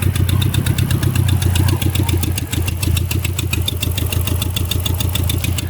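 A Hemi 5.7 V8 engine idles just after starting, running slightly rough with a possible exhaust port leak: a loud, close, steady rumbling idle with a fast, even ticking pulse throughout.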